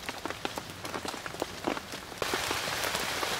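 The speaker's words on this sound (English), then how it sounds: "even though it's raining quite heavily still" Heavy rain falls outdoors around a campfire in the UK, a dense, close patter of drops on surfaces that swells louder partway through, with no voices.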